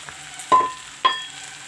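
Vegetables with salt, saffron and chili powder frying in a pan while being stirred, two distinct scraping clatters of a spoon against the pan over a soft steady sizzle, close and fairly quiet.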